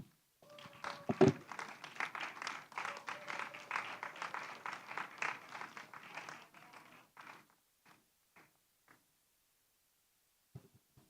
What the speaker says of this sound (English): We are too quick to stop clapping.